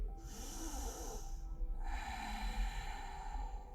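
During a yoga exercise, a slow, deep breath is drawn in close to the microphone, a soft airy rush followed by a second breathy phase, quiet and without speech.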